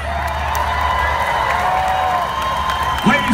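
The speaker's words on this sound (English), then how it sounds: "Let me hear a round of applause for our drivers." A demolition derby crowd in the grandstands applauds and cheers the drivers, a moderate, steady wash of clapping and distant shouts, with a brief whoop near the end.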